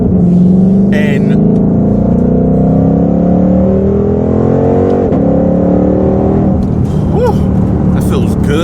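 A 2020 Ford Shelby GT500 with a supercharged 5.2-liter V8 pulls hard under acceleration, its engine note climbing steadily and loud from inside the car, with a steady drone throughout.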